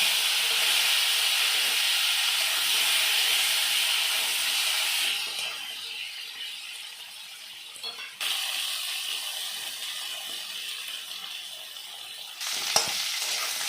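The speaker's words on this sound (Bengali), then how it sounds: "আলুগুলো হালকা একটু ভেজে নেব" Potatoes frying in oil, a continuous close hissing sizzle that dips softer midway, with a few clinks and scrapes of stirring.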